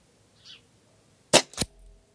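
Two sharp, loud reports from a Stoeger XM1 4.5mm PCP air rifle fired at a shooting table, close together and standing alone against a quiet background.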